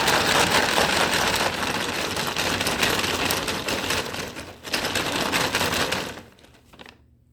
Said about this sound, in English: Now, we're going to shake the bag.